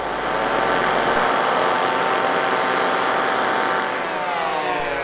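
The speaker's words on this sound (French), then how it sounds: "Et le bruit des moteurs, il est pour quelque chose. Nous vous laissons apprécier." A loud, sustained engine roar with a steady droning pitch, racing aircraft in Unlimited-class pylon racing passing close by, filling the whole clip.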